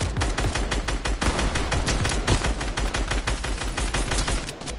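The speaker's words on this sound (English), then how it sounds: "Oh, Snoop Dogg's drum gun." A drum gun in Fortnite fires a rapid, sustained automatic burst of loud, close gunshots that rattles on steadily for several seconds, with no talk.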